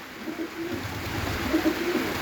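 Soft, low coos from sivak pigeons come in two short bursts over steady background hum, fairly close, in a village.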